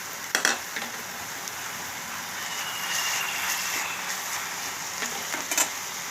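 Garlic sizzles and crackles in a pan with softened onion and tomato, a soft, steady frying hiss broken by a few sharp stirring clatters, close and fairly quiet, with no talk.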